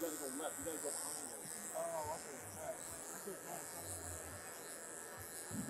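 Electric pet clippers fitted with a size 10 blade buzz steadily as they trim a Giant Schnauzer's coat, a constant close drone running throughout with faint voice-like sounds mixed in.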